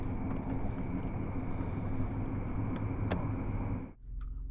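The big outboard motor of a walleye fishing boat runs in a loud, steady drone close by, then cuts off abruptly near the end. No one speaks.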